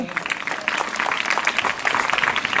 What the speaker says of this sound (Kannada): ಆ ರೈತರು ಜೋರಾದ ಚಪ್ಪಾಳೆಯಿಂದ